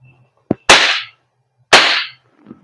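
Two sharp, loud cracks about a second apart from a CO2 airsoft pistol with strong blowback, each with a hissing burst of gas trailing off, plus a small click before the first shot.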